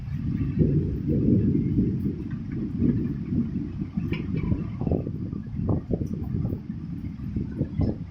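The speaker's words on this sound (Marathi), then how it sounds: "गडगडलेला आवाज येतोय पावसाचा" Low, rolling thunder rumbles on and off under steady wind noise during rain, with no voices.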